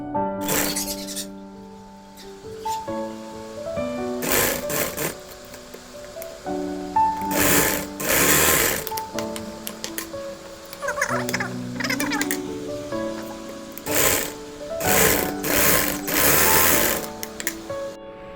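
Sewing machine stitching a V-neck petticoat, running in repeated bursts of rapid mechanical chatter that start and stop every few seconds, close and fairly loud, with no talking.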